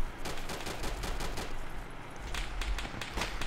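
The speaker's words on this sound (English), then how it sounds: "It's like a 50 cal shooting at me or something." A .50 caliber machine gun fires in the military shooter ARMA 2, a sustained, steady stream of rapid heavy rounds that sounds fairly distant and muffled, continuing unbroken with no talk over it.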